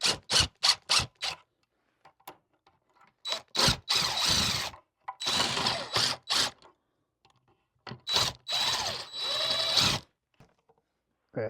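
Drill driving screws into a chair, short bursts of whirring in uneven clusters separated by silent pauses, close and fairly quiet.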